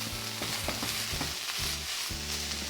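Vegetables and paste are stirred and fried in a pan for a crispy tofu and lemongrass dish. A utensil scrapes in repeated strokes over a constant close sizzle, with no talking.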